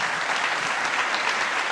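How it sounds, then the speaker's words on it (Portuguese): A church congregation breaks into steady, dense applause during a sermon, a continuous wash of many hands clapping at close range with no voices standing out. "Posso aplaudir o Senhor por essa igreja?"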